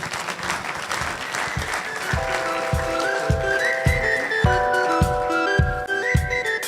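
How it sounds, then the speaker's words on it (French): An audience at an evening entrepreneurship awards ceremony applauds steadily and loudly while a trophy is handed over, with rhythmic clapping and a sustained musical tune playing throughout. "les applaudissements du public."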